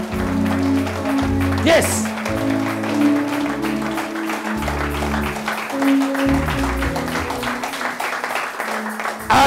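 A church congregation applauds during an Easter service, steady clapping running throughout beneath loud amplified preaching and music, with a voice speaking over it.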